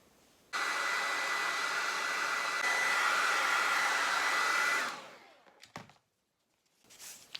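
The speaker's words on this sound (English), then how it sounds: "now I'm going to heat that with my hot blow dryer" A hot blow dryer heating EVA foam blows steadily and loudly for about four seconds, then cuts off, followed by a few small knocks and handling sounds.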